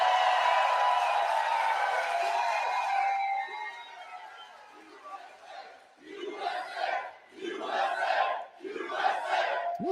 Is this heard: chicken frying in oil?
no